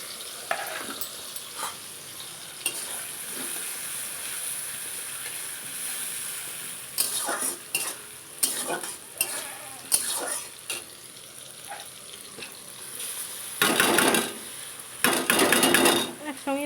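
Onion paste, garlic paste and dry red chili paste fry with whole cumin in oil for a chicken curry. A constant close sizzle runs throughout, with bursts of spoon scraping and stirring growing louder toward the end.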